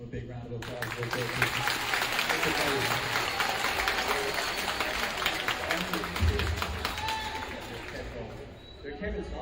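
A school assembly audience at WPHS breaks into loud, sustained applause, a dense crackle of many hands clapping together that holds strong for most of the stretch before thinning slightly near the end.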